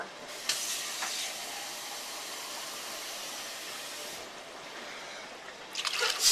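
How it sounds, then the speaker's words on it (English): Canned chicken stock pours steadily into a pot for soup with a soft, continuous splashing hiss that runs for several seconds, then a brief louder clatter at the end. "we're just going to put a couple cans of chicken stock in here and 1 can of water"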